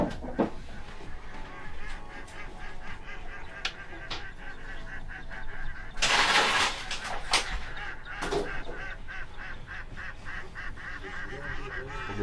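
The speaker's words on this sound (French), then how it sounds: "j'entendais ce canard en face" A duck calls in repeated honking quacks, some single and one louder burst, across a quiet marsh during a waterfowl hunt.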